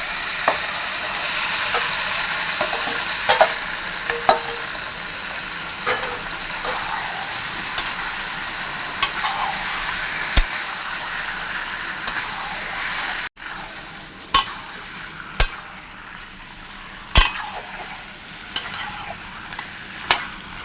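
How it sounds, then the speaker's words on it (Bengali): Marinated meat added to fried onions in oil, first a loud dense sizzle and hiss, then quieter frying punctuated by sharp spatula clacks and scrapes against the pan. "মাংসটা দিয়ে দেবো"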